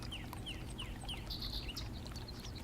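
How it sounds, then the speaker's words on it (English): Birds chirp outdoors near a river, with short, scattered calls repeating over a steady low rumble of background noise, faint and somewhat distant. "The birds are happy."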